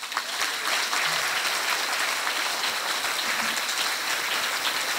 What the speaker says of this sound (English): So now we can all give each other a big hand applause.